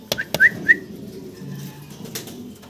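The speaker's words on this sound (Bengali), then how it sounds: "দর্শক ভিডিও স্ক্রিনে আমরা দেখতে পারতাছি এক পেয়ার মুন্ডিয়ান কবুতর" A pair of Mundian fancy pigeons, both females, give soft low coos under a few short, sharp whistle-like chirps, heard close and without talk.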